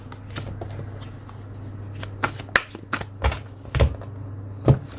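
A deck of tarot cards is shuffled by hand, with soft riffling and rustling broken by several crisp slaps and snaps as the cards knock together, close up and without speech.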